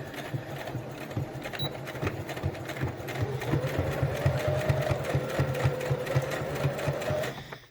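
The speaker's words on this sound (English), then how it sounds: "take your sewing machine off the zigzag" A sewing machine runs steadily, its needle stitching in a fast, even mechanical patter with a low motor hum, close and continuous throughout.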